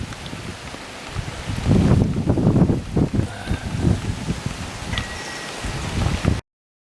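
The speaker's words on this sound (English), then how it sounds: "And now it's starting to rain." Rain beginning to fall outdoors on open land, a steady soft patter with a few heavier bursts of drops on surfaces, some wind rustle and no speech.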